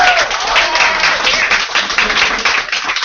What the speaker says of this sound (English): Give a big round of applause for this guy.